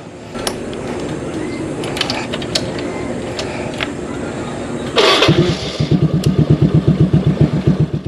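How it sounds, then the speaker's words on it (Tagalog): A motorcycle engine starts after some mechanical clicking, then idles with a steady, rapid putter, close and fairly loud. "Ito yung motor na madalas kong gamitin dito sa Montalban."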